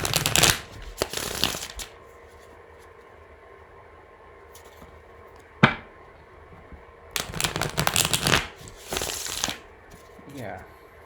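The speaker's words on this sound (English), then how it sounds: "A few more shuffles here." Tarot cards are shuffled in several quick riffling bursts with quiet pauses between them, close and crisp, plus a sharp tap in the middle.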